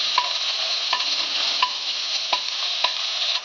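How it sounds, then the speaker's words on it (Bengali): Chopped onion sizzling in hot oil with cumin in a pan while making an egg curry, a steady loud hiss broken by regular scrapes and clinks of a spoon stirring against the metal, with no voices. "কেটে রাখা পেঁয়াজটা এবার দিয়ে দিলাম।"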